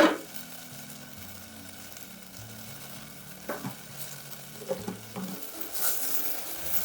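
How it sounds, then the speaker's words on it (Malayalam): Tea leaves boil in a pot of water for masala chai, giving a quiet, steady bubbling simmer with a few faint clinks, under soft background music. "തേയില തിളച്ചിട്ടുണ്ട്"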